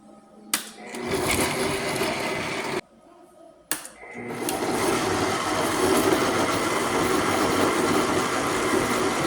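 A blender whirs steadily while mixing salsa verde made with tomatillos, boiled garlic cloves and salt, starting in short bursts and then running loud and continuous.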